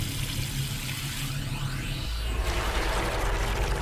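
Water flowing through pipes in Zero Time Dilemma produces a continuous rushing, gurgling stream that shifts in tone partway through, steady and fairly close with no voices over it.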